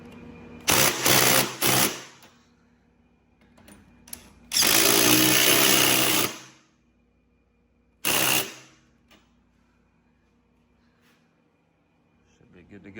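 Three bursts of a power tool driving cross member bolts tight on an EZGO golf cart, each a loud rattling whir lasting one to two seconds, separated by quieter stretches with some talk.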